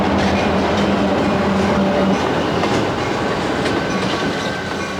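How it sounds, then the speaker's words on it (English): A train rolls past on the rails, a continuous loud rumble with rhythmic clickety-clack of wheels and a faint squeal, heard alone with no voices. "Kids love trains, and for good reason. They're big, powerful, and loud."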